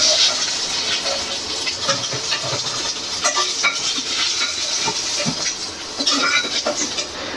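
Eggs frying in hot oil in a pan for a Bengali egg curry, a steady bright sizzle with occasional scrapes and clinks of a spatula against the pan, close and continuous, no talking.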